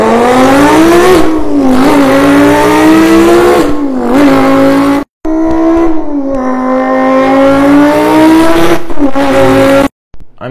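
A voice imitates a Lamborghini Huracan with a manual gearbox, loud, close revving wails that climb, drop at each shift and climb again, with two brief gaps between pulls.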